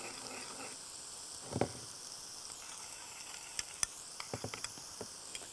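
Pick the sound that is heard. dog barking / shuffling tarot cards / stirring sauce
stirring sauce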